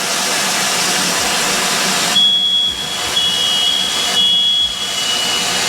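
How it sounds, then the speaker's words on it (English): A steady high-pitched alarm tone from interconnected fire alarms sounding together throughout a newly built custom house, in long stretches over a constant loud hiss, with brief breaks between pulses. "all the fire alarms within the house will go off at the same time"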